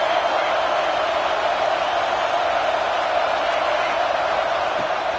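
Stadium crowd roar from a college football video game, a steady, dense wash of noise on first and goal with faint whoops rising out of it, continuous and unbroken throughout.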